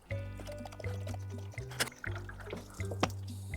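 Murky pond water is poured into an Audi's coolant reservoir, giving uneven glugs and splashy trickles that come in short pulses up close, with a few louder drips and no voices.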